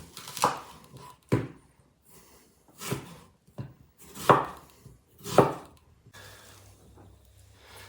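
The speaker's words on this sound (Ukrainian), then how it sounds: "Тож нарізаємо цибулю півкільцями" A knife slices a medium onion into half-rings on a board, giving about six distinct, crisp chops spaced out unevenly with quiet gaps between them, near and fairly loud.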